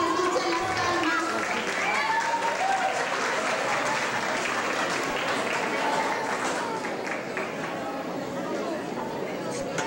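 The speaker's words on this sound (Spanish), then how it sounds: "Que se escuchen las palmas" A festival crowd at an evening pageant applauds steadily, with a thick, sustained wash of clapping and cheering that carries chatter underneath throughout.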